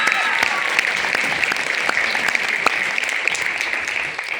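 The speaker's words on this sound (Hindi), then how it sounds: "मेरी पेरिस टीम के लिए एक बार जोरदार जबरदस्त तालियां हो जाए।" An audience at a stage event claps for a team, sustained dense applause with sharp individual claps standing out, fairly close and loud.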